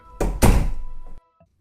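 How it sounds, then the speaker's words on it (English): Heavy door being pushed shut in a school building, with a solid thunk and a brief rumble as it closes, then silence with a faint click after. "Buckwald closed the door behind him, shaking her head."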